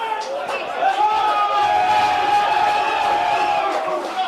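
A football crowd at a Glenorchy Knights versus Clarence Zebras match lets out a loud, sustained jeer at a referee's call, a steady roar of voices lasting several seconds with a commentator talking over it.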